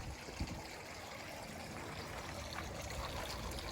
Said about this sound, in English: I like the sound of the gravel and the water.